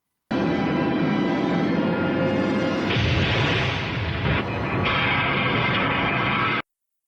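Nuclear missiles fire in the space battle film Battle Beyond the Stars. A dense, loud roaring rumble runs for about six seconds, with rushing bursts layered over it, then cuts off abruptly.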